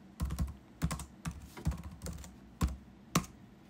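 A command is typed on a computer keyboard: a handful of close, distinct key clacks at an uneven pace, quiet and alone with no talk.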